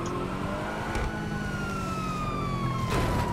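A fire truck siren wails in the video game GTA Online, a steady falling tone that carries over engine rumble and game noise.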